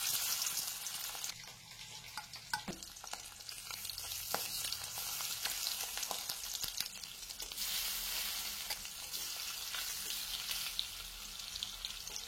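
Rohu fish pieces coated in turmeric and salt fry in a pan with a fairly quiet, steady sizzle, broken by a few sharp crackles and spatters.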